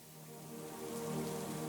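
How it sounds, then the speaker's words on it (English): Gentle autumn rain falls steadily, a soft continuous patter of drops on a surface that swells slightly in loudness, heard alone with no voices. "We're going to just start to also bring in some autumnal rain."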